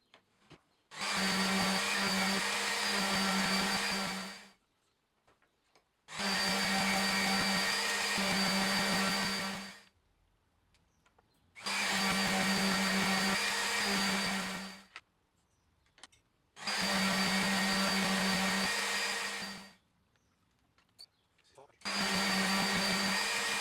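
An electric sander works a resin and hardwood coaster at 400 grit, whining in five separate passes of about four seconds each. Each pass is a steady, close, buzzing drone, and short quiet gaps fall between them.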